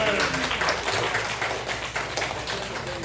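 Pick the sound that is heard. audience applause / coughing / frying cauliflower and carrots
audience applause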